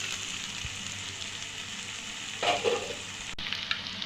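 Masala spices sauté in a pan for chicken roast, a steady low sizzle with a short burst of louder crackle midway and a brief knock near the end.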